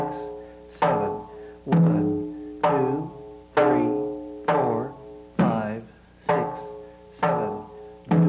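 A frame drum is struck in steady quarter notes, each resonant stroke ringing and decaying before the next, about nine evenly spaced hits played alone.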